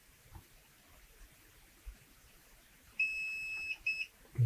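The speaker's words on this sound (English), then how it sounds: "you hear another beep" Quiet background, then a short electronic beep of about a second from a Tesla Model 3/Y auto-presenting door handle module, followed by two brief beeps in quick succession.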